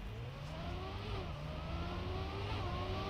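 Motorcycle engine in Trackmania 2 Stadium revving steadily, with a continuous rising and falling engine whine held at a constant loud level throughout.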